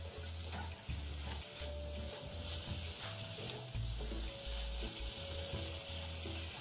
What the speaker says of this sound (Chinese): 再次将食材与调味料一起炒匀